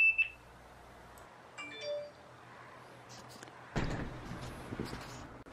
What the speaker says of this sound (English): Now let's listen to the camera's alarm when it senses motion.